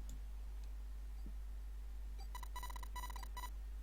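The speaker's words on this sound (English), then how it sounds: "Like some sort of beeping." After a few faint ticks, a series of short, high electronic beeps from the video game Nine Hours, Nine Persons, Nine Doors sounds in quick bursts near the end, bright and evenly pitched over low hum.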